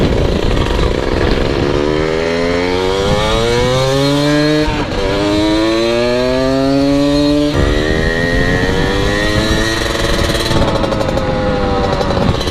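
1982 Honda MB5 motorcycle accelerating hard through several gears, a loud, raspy two-stroke engine note climbing in pitch with each gear, dropping briefly at the shifts, close by and without talk.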